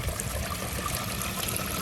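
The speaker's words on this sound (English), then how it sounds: "And this water is constantly circulating." Water circulates in a bobcat enclosure's swimming pool at a big cat rescue, a steady close trickling stream with an even, continuous wash and no break.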